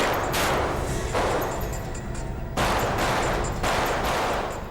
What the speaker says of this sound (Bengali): গুলির শব্দ, মনে হয় আমার বন্ধুরা এসে গেছে।